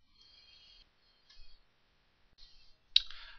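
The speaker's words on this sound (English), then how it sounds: "we can unzip the file by right clicking and clicking extract here" A computer mouse clicks a few times, with short sharp clicks spaced apart and a brief quiet hiss between them, close to the microphone.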